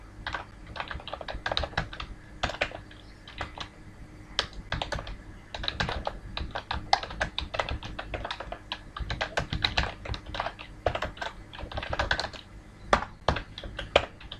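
C++ code is typed on a computer keyboard as rapid, irregular, close-up keystroke clicks in quick bursts, with no voices.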